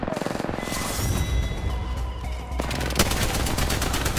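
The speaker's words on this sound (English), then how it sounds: "Listen up, I'm getting shot at." Rapid automatic gunfire in Apex Legends, a dense, loud stream of shots that continues without a break, getting sharper and more clipped partway through.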